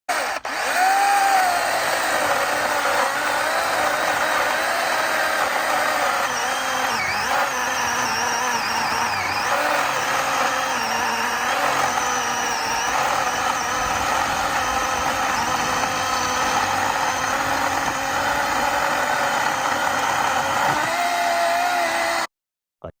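A Makita DUC357 cordless chainsaw cuts through a felled tree trunk in a forest, its electric motor whining steadily and shifting in pitch under load for about twenty seconds before stopping abruptly.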